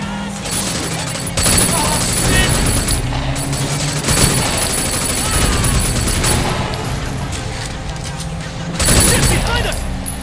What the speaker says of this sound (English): Oh god, we're getting shot at.